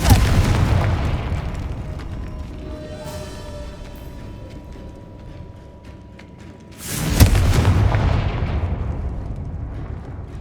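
Hogwarts Legacy Confringo fire-spell explosions: a rumbling, crackling blast fades, then a second sharp, loud detonation bursts out and rolls into a sustained roar, with no voices over it.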